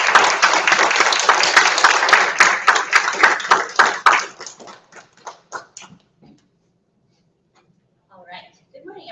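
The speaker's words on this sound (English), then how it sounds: "So, everybody, in a round of applause for Dr." Applause for a doctor at a conference kickoff: a dense, loud burst of many hands clapping that thins into a few scattered claps and fades out, followed by a brief voice starting to speak.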